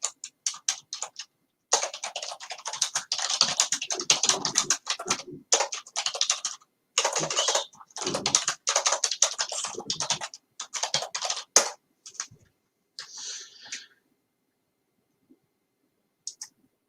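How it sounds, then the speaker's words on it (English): Keys on a computer keyboard clatter in fast, uneven bursts as a comment is typed, with brief pauses between runs of keystrokes and a final few isolated taps after a longer gap; no voice is heard. "I might just type here"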